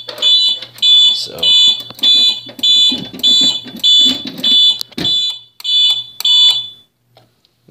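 An Interlogix smoke detector sounds during a sensitivity test, a very loud, shrill, close alarm beeping in a steady repeating rhythm of short bursts, with a voice talking under it before it stops.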